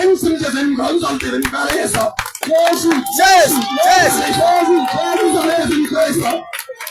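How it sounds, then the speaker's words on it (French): A congregation at an evangelistic prayer vigil at the big market in Kara, Togo, cheers and acclaims God, with loud crowd voices, whoops and clapping continuing steadily throughout. "Si tu aimes la vérité, acclame Dieu."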